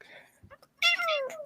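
A house cat gives a short, clear meow, rising then falling, close and fairly loud, after a few faint background sounds.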